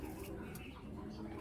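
A female blue checker racing pigeon coos in a low continuous murmur, fairly close and steady, with faint background noise and no other voices.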